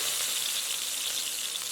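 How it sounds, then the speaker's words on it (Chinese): Eggplant frying in a pan of hot oil gives a steady, dense sizzle that holds at an even loudness from start to finish, with no voices. "锅内的油热之后，把茄子放入锅内煎制"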